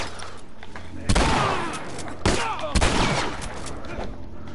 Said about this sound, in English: Shoot him, Ellie.